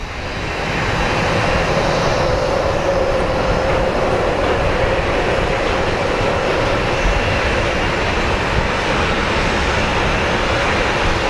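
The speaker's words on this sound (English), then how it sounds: "over there we did have a Airbus A300 come in from FedEx, one of our bigger freighter planes" A FedEx Airbus A300 freighter arrives at Phoenix Sky Harbor International Airport, its engines a loud, steady, broad roar that swells in the first second and holds without a break.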